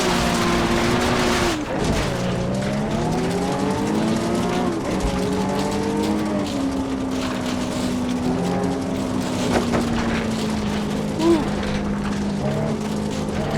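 A rally car engine in Richard Burns Rally revving and shifting through gears on a stage, a continuous loud drone with rising and falling pitch sweeps, under occasional speech.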